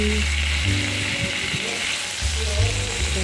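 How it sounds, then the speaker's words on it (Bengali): Prawns sizzle and fry steadily in a hot wok, a loud continuous crackle with a low hum underneath throughout. "দেখো চিংড়িগুলো ভাজা হয়ে গেছে, বেশি তো ভাজবো না, বেশি ভাজলে শক্ত হয়ে যায়।"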